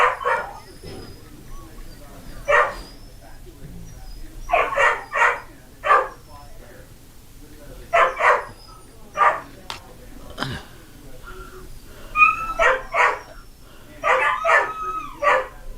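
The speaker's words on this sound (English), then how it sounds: "No, you're not supposed to bark." Young puppies yipping and barking in repeated short bursts, some clustered in quick pairs and triplets, close and lively, with someone talking intermittently between them.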